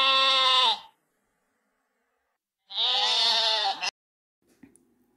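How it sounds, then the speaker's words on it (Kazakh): A sheep gives two loud, close bleats with a quiet gap between them, and a faint click follows. "Қой"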